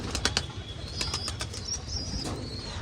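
A flock of pigeons flutters and flaps wings in several sharp bursts, with soft cooing underneath and faint chirps, fairly close and without talk.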